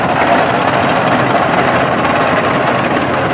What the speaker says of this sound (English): Next up we have a 1929 Ford Model A Roadster owned by the Redmond family of Fairfield